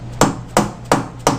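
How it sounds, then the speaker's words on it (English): A dead blow hammer taps a workpiece down into a vise in a machine shop: four sharp, evenly spaced blows at a steady rhythm, close and fairly loud, with no talk. "then we're going to take a dead blow hammer"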